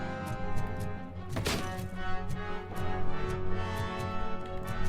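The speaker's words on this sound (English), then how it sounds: "Whoop, another grenade." A grenade goes off in the RoboCop Rogue City video game, a dull, heavy thump with a brief burst of noise amid ongoing game sounds.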